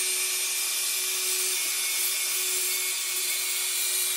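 Steady, loud power saw blade running through a wooden industrial sewing machine table, a continuous whine with a constant tone and no breaks or voices.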